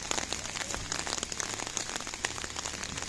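Heavy rain falls during a flood in Belize near the Belize Old River, making a steady, dense patter of drops striking surfaces close by, continuous and fairly loud throughout.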